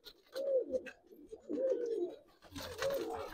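Giribaz and coloring pigeons coo in soft, repeated throaty phrases, three clear bursts close by, fairly quiet with no talk.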